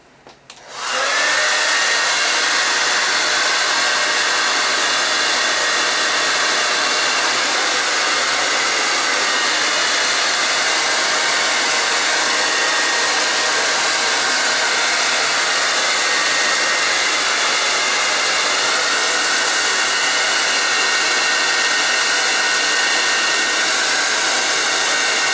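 A hair dryer fitted with a diffuser blows while drying curls, switching on at the start and then holding a loud, steady whoosh close by for the rest of the time.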